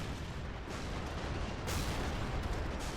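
Artillery and gunfire in the World War II strategy game Men of War: Assault Squad, a dense, continuous roar of overlapping booms and shots with a louder swell partway through, heavy and unbroken.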